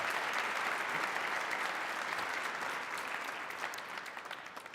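Applause from the audience at a Martin Luther King, Jr. event at Strathmore, a steady wash of many hands clapping that fades slightly toward the end, heard from a distance.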